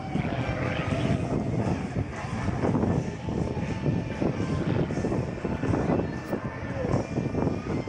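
Zivko Edge 540 aerobatic plane performing at the Battle Creek airshow, its engine droning and surging at a distance throughout, heard beneath a public-address announcer's commentary and crowd ambience.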